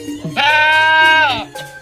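Goat bleating in an animated cartoon: a single loud, close, wavering bleat held for about a second, with a little quieter sound before and after it.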